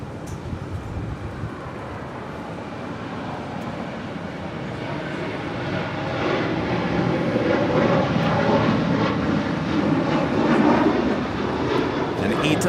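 A United Boeing 737 takes off from runway 25 right at LAX, a steady broadband engine roar that swells gradually and stays loud throughout, heard from a distance across the airfield.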